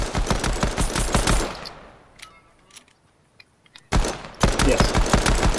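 Pistol gunfire in Fortnite rattles in fast, dense bursts, breaks off into near silence for about two seconds, then resumes just as loud and close.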